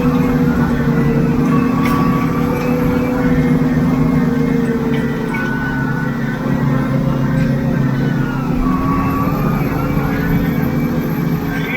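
Valtra T235 tractor engine running at speed on the road, a steady low droning hum with faint higher tonal whine, continuous and fairly loud throughout.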